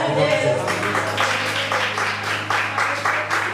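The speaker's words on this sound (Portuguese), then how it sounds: "a igreja glorifica com as suas palmas" Church congregation clapping during a Santa Ceia service, a steady dense patter of many hands sustained throughout, with a low hum running beneath and faint voices mixed in.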